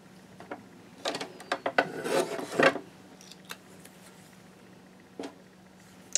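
Scissors or a blade cutting a one-inch strip from a 12 x 12 cardstock sheet, giving short rasping snips and a longer scraping cut in the middle, close and fairly quiet with a faint steady hum behind.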